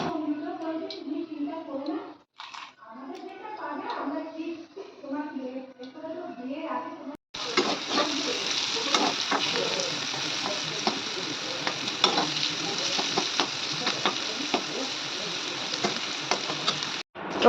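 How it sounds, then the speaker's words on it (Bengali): Bitter gourd frying in oil in a wok: a voice talks over quieter kitchen sounds at first, then a loud, steady, close sizzle takes over for the remaining ten seconds. "প্রথমে করলাটা ভেজে নেব।"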